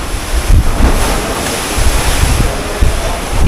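Sea waves surge and splash inside a cave off Boracay Island, a loud continuous wash of churning water with gusts of wind buffeting the microphone.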